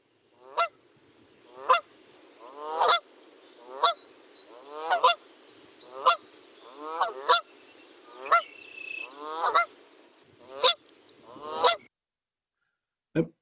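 A Canada goose honks repeatedly, loud and close, in a series of sharp nasal calls spaced about a second apart, with no other sound.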